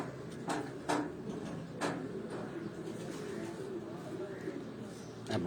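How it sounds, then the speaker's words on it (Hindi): Lakha pigeons cooing softly in a loft, low rolling coos repeating under a steady background hum, with someone talking nearby. "चिड़िया वाले ते लाखे कबूतर तुहानू शौक करा रहे हैं जी"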